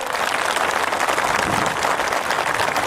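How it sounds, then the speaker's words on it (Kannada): Crowd at a large farmers' protest rally in Talikoti, demanding a drought declaration, claps in a dense, steady roar of applause that fills the whole stretch without a break. "ಅಲ್ಲಿ ಒಂದ್ಸರಿ ಜೋರ ಚಪ್ಪಾಳೆ ಬರಲ್ಲ ನೋಡಲ್ಲಿ"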